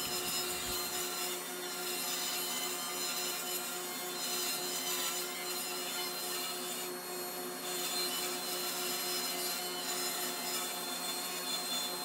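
A power saw whines continuously through wood, cutting 3-inch wide strips, a steady loud cutting drone with no talking.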